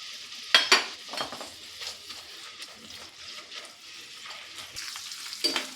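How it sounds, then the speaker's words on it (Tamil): Paneer chunks frying in hot oil in a pan: a steady moderate sizzle with occasional sharp spatula scrapes and clinks close by, no talk. "எல்லா பன்னீரும் போட்டு ஃப்ரை பண்ணலாம்."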